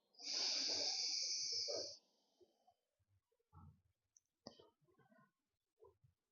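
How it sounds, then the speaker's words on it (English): A long, slow breath out through the nose during a bedtime yoga stretch, a close, airy hiss lasting nearly two seconds, followed by quiet small clicks and soft breathing. "Long, slow breath out through the nose as well."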